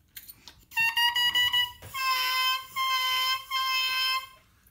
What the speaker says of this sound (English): When I beep the reed and play the reed,